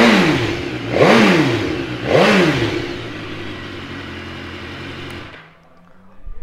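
A 2014 BMW S1000R motorcycle engine starts and revs sharply twice, rising and falling, then settles into a steady idle before cutting off abruptly.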